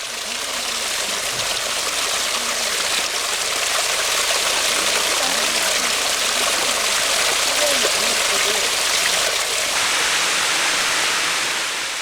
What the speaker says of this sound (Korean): 금방이라도 시원한 바람을 일으킬 것만 같은 물소리가 귓가를 적십니다.